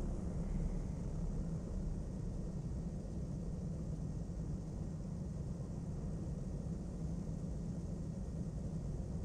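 An airliner taxis onto the runway in Flight Sim World, its engines giving a steady, dense roaring hum with no change in level throughout.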